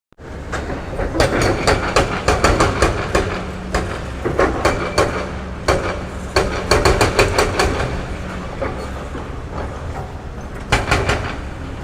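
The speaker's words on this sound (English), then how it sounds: "That drill bit is going to really be destroying anything." A construction drill rig works a downtown Miami street, giving off loud, close, irregular bursts of metallic clanking and hammering over a constant low engine rumble, with no talk.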